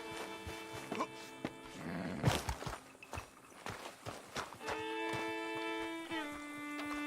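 A lion roars in the video game Red Dead Redemption 2, a deep growling call mixed with horse hoof clops and sustained game music tones.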